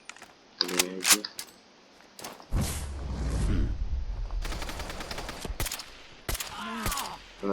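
Gunfire in Fallout 4 landing a headshot: sharp shot transients at the start, then a longer burst of noisy combat and impact sounds, fairly loud, with game effects and brief voice-like tones mixed in.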